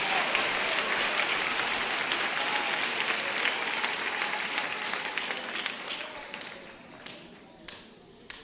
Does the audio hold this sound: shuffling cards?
no